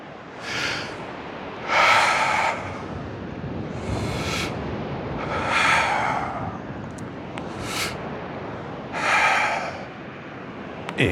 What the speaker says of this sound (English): So we breathe in.